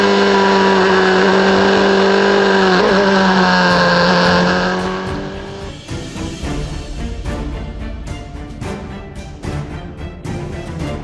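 GB4 series race cars roar into the first corner, loud high-revving engines that fade into a chorus of passing cars with sharp downshift pops and bursts.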